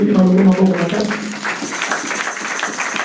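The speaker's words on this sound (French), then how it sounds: "Est-ce que vous pouvez applaudir pour cette parole?" A church congregation breaks into applause just after a voice speaks, the clapping filling the hall as a loose, fairly close patter.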